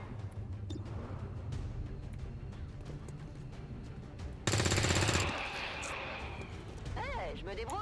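A rapid burst of automatic gunfire rattles for about a second in XCOM 2, loud and mechanical, amid scattered impacts and game sounds, with a voice speaking over parts of it.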